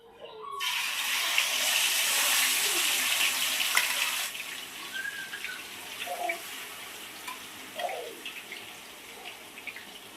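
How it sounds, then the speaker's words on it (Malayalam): A loud burst of sizzling hiss as fish pieces hit hot oil, then it settles into a quieter, steady crackling fry with occasional pops. "നമ്മളിനി ഫ്രൈക്ക് വേണ്ടി നമ്മൾ മീൻ ഇടുവാണ്"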